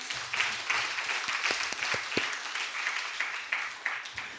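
A church congregation applauding during a Sunday morning service, a soft, even patter of many hands from a distance, with a few sharper individual claps standing out.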